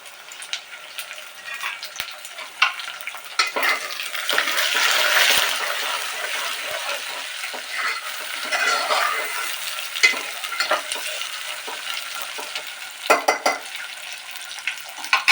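Green peas fry in a pan for khara pongal, with a steady sizzle and stirring scrapes that stay close and fairly loud, swelling and easing with occasional sharper clinks.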